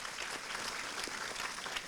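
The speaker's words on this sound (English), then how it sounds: "Please give yourself a round of applause once again" An audience at a university talk event applauds in a steady, even patter of many hands, fairly faint and distant, with no voices over it.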